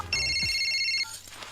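On an outgoing call, a short electronic telephone ringing tone sounds once for about a second over a low background hum, then stops.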